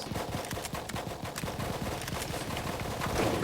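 Heavy gunfire in the video game Full Spectrum Warrior: a dense, continuous barrage of rapid overlapping shots and impacts, loud and busy throughout, with no voices on top.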